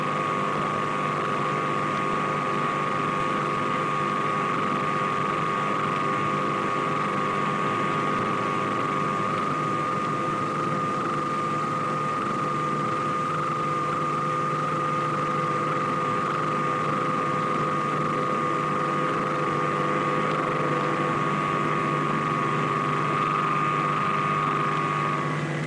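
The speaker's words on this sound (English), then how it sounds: "The bomber ready, it moves off to wait its takeoff time under double guard." Bomber aircraft engines run steadily on the ground before takeoff at a Nevada nuclear test, a continuous droning hum with a sustained whine, loud and unbroken throughout.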